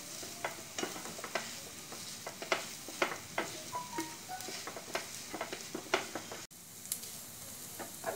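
Mashed boiled potato is stirred into masala in a pan, with a spoon scraping and tapping in a steady rhythm of soft clicks over a low, faint sizzle.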